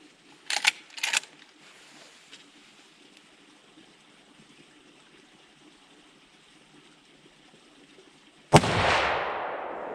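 A pre-64 Winchester Model 94 rifle in 30-30 fires a single loud, sharp shot near the end, its report trailing off outdoors, after a few earlier clicks and faint handling noises over a quiet background.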